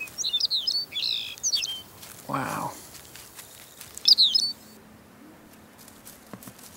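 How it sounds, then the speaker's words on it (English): A male Lapland Longspur calling close by, giving several quick sharp chirps in short bursts, with a brief exclaimed word from a person between the calls. "There's a Lapland Longspur right in front of us."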